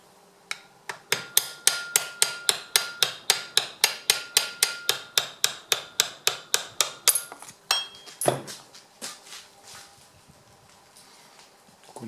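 Hammer blows on a screwdriver used to drive pins out of a Subaru gearbox shift linkage, a fast, even run of about thirty sharp metallic taps, close and loud, followed by a few scattered knocks and clatter.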